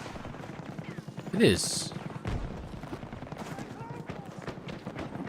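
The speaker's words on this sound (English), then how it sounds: "I think this is a suppressed AK, isn't it?" Suppressed AK rifle fire in Battlefield 6, a short burst of muffled shots near the start followed by continuous battle noise, with a voice speaking briefly.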